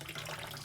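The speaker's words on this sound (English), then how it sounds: "I'm going to show you on camera what happens when you water a plant" Water poured from a glass into a potted plant, a steady close trickle and splash of liquid running through the soil and pot, continuous and alone without talk.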